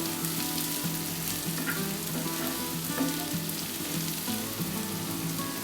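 Vegetables fry in a pan for fried rice, giving a strong, continuous sizzle with light scraping and stirring clatter throughout, close and with no speech.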